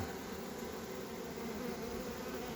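Honeybees buzz as a new queen emerges from her cell, a dense, steady close-up hum from many bees with no break.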